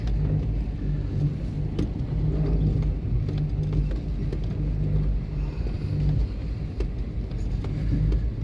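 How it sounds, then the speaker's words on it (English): A four-wheel drive vehicle ploughs through soft sand on a gravel road, its engine a steady low rumble with road noise and occasional knocks, continuous and close. "Just a lot of soft sand to drive through."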